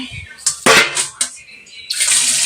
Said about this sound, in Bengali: সিমগুলো ধুয়ে নেবো